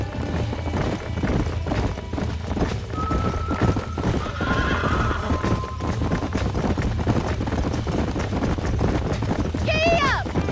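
In the Red Dead Redemption video game, a horse on a ranch where broncos are being broken clip-clops steadily and lets out a clear whinny near the end, with people talking over the hooves.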